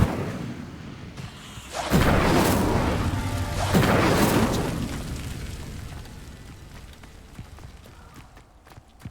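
A fire spell bursts out twice in Hogwarts Legacy, two loud whooshing blasts about two seconds apart that fade into a dwindling crackle and scattered small impacts.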